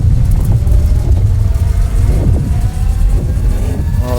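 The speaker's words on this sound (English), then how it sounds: "All the thrusters come up to speed." Spaceship engines and thrusters spooling up in the video game Star Citizen, a loud continuous engine rumble that swells and revs, with rising whining tones near the end, alone without talking.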